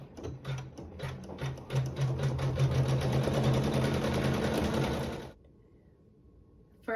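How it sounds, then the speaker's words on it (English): An embroidery machine sews decorative quilting stitches into the corners of a flower patch quilt block, a steady fast mechanical whirring that runs loud and alone for about five seconds, then stops abruptly, leaving near silence. "it will sew some decorative stitching in the very corners of the embroidery"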